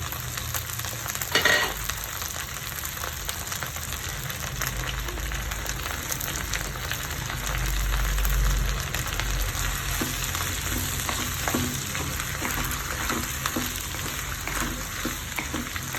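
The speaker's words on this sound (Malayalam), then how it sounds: "ഇനി വെണ്ടയ്ക്ക ഇട്ട് കൊടുക്കാം" Okra sautés in a pan with a continuous close-up frying sizzle, broken by a sharp clatter near the start and occasional stirring scrapes.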